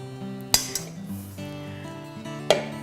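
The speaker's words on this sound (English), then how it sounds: "We're going to prick the bottom of this so it doesn't raise on us" A fork pricks the bottom of a gluten-free pie crust in its dish, giving two sharp, separate metallic clinks over soft, steady background music.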